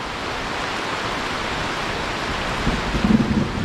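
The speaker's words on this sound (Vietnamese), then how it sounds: "Mưa to, mà ao cá thì cũng đầy nước rồi kìa" Heavy rain falls steadily as a dense, even hiss by a full fish pond in the forest, with a low rumble swelling near the end.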